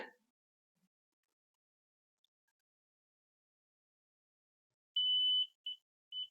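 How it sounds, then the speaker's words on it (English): Near-silence, then a steady high beep from a Hantek 3065 bench multimeter's continuity tester lasting about half a second, followed by two shorter beeps, clean and close. "As soon as you touch it, it beeps, no delay."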